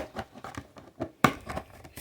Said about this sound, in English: I'm going to take some scissors and just cut these wires right here